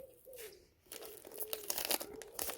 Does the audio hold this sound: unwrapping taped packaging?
yes